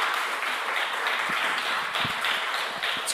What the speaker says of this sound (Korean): 여러분 박수로 먼저 축하해 주시기 바랍니다.